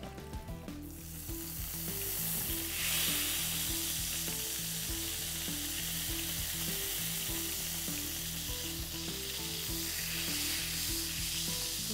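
Half a lemon is squeezed into a hot pan where chicken breasts were just fried, giving a loud, steady sizzle with occasional stirring scrapes under a low background hum, no voices.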